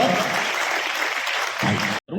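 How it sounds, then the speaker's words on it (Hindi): An audience gives a hearty round of applause to welcome a young poet, a full, dense wash of clapping that stays loud and steady before cutting off abruptly at the end. "एक बार जोरदार तालियों के साथ स्वागत करिएगा मेरा छोटा भाई भरत"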